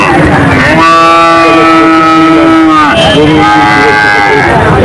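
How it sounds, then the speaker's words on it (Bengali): Cattle at a busy livestock market in Satkhira: a loud, long, drawn-out moo lasting about two seconds, followed by another starting near the end, close by over crowd noise and faint voices. "এখানে অনেক গরু নিয়ে আসে দূর দূরান্ত থেকে"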